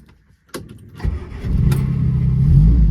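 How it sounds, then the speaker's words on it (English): A classic car fitted with a Maniflow stainless steel exhaust is started: a few clicks, a brief crank, then the engine catches and settles into a loud, steady running rumble that grows slightly fuller. "It's a Maniflow exhaust, stainless steel fitted."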